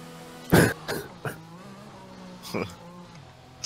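A man coughs and clears his throat in several harsh, close bursts: a strong one first, two smaller ones soon after, then another after a pause.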